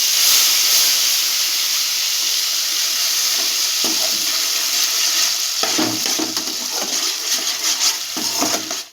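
Ground spice paste of coriander, cardamom, black pepper, ginger and a green chilli frying in a hot pan, a steady close sizzle and hiss with a few brief stirring scrapes, no voices.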